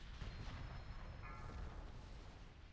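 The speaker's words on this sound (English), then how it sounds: "Detonate the explosives and let's get out of here." Explosives detonate in World of Warcraft with a deep rumbling boom that swells and rolls on through the short span, loud and full, without any voices.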